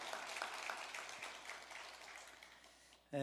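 A church congregation applauding during a Sunday worship service, steady crowd clapping that holds for about three seconds before a louder sound cuts in at the end.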